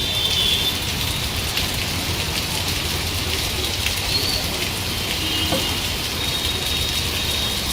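Heavy monsoon downpour at the Anand Nagar four-way road crossing in Vadodara, a steady broadband roar of rain hitting the street throughout, with faint bird calls over it.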